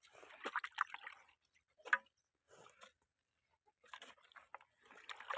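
Intermittent sloshing and slurping as dairy cows drink water, in short bursts separated by pauses, close by and fairly quiet.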